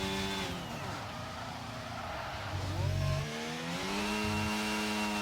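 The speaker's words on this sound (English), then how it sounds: "They rev out the engines." Engines of F1 cars in a racing video game rev high and whine continuously, pitch sweeping up and down through gear changes, loud and close, with tyre squeal mixed in and no talk.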